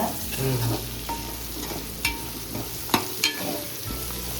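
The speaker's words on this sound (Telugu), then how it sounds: "చక్కగా ఇది వేగుతుంది కదా" Food fries in a pan with a steady sizzle while a spoon stirs and scrapes through it, a few sharper clinks and knocks standing out close by, with no talking.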